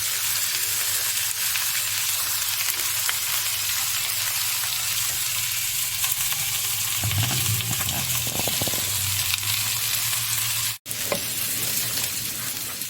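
Potatoes and onions frying in a pan, a loud continuous sizzle that holds steady throughout, with brief stirring sounds and a momentary dropout near the end.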